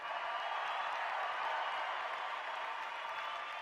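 A conference audience claps, a dense, steady wash of applause that stays even and fairly distant throughout, with no voice on top.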